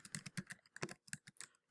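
Quiet, rapid clicking of keys on a computer keyboard, a short run of uneven taps close by.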